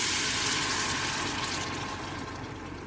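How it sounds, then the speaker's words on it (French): Hot water poured over onions in a cooking pan with tomato concentrate, a steady rushing gush that slowly fades a little across the whole stretch, close and fairly loud with no talk. "je vais arroser le tout avec de l'eau chaude"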